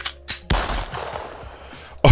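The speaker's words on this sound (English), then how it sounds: "I'm letting off gunshot sound effects" Synthetic gunshot sound effects fire in a quick series: two sharp cracks, then a loud blast with a long decaying boom and tail, and a final sharp report at the end, with no speech.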